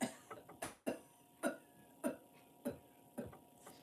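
A voice imitates a harsh smoker's cough, a string of short, raspy hacks repeated at a steady rhythm, fairly quiet.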